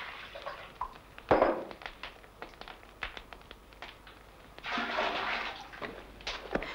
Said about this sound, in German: spült die Frau sie mit heißem und kaltem Wasser aus